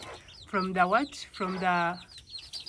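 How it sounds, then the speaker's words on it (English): Backyard pet birds, likely chickens, clucking and calling in two harmonic bursts of about half a second each, close by and fairly loud over a low background hum. "these are our birds, but they can feed from there"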